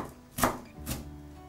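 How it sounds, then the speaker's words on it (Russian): A knife chops through shredded cabbage on a board in two distinct, crisp strokes about half a second apart, close and clear with quiet between them. "Уже нарезанную капусту я еще немного измельчаю при помощи ножа, таким способом, как показано на видео."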